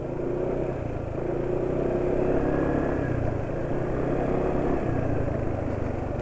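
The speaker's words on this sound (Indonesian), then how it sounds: "Turun mesinnya RPM turun RPM pun nggak terlalu cepet sih ya." A diesel engine running on Fastron Techno 15W50 fully synthetic oil settles as its revs drop, giving a steady, close, low rumble that stays even throughout, with no voices over it.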